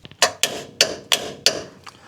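A torque wrench tightens an end link bolt on a Lexus GX460, giving five sharp metallic clicks in an uneven rhythm, close and fairly loud, with no talking.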